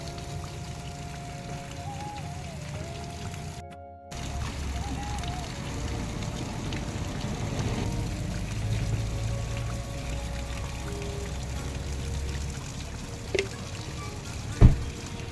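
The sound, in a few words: stream of cold water flowing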